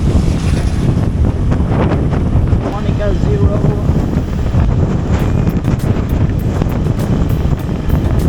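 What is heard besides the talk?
strong wind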